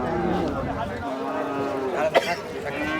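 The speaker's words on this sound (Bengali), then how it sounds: "বাচু ভাই, আমাদেরকে একটু বলেন যে আপনার কাছ থেকে এই বকনা গরু মানুষ নিবে কেন?" A heifer moos in long, low, drawn-out calls close by, with a brief sharper sound near the end.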